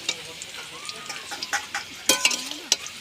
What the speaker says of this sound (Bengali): এবার আলুগুলো আস্তে আস্তে ভাজা কমপ্লিটের পথে, লাল লাল কালার আসছে আলুতে।